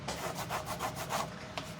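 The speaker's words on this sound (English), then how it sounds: "because this is plastic, it's not scratching the surface. It's just scraping up that paste" A plastic scraper drags across a surface lifting up paste, several short rasping strokes in a loose rhythm, close and fairly quiet.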